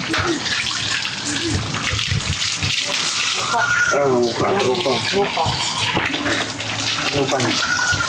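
Running water splashes steadily as a face is washed with soap, with voices talking over the continuous wet noise.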